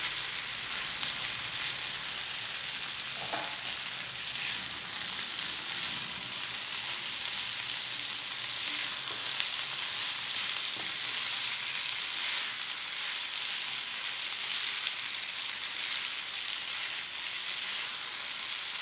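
Paneer pieces frying in a hot pan with chillies for a vegetable finger fry give a steady, even sizzle throughout, soft and continuous, with no talking.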